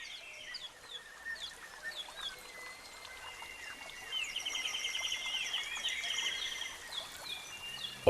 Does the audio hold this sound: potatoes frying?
no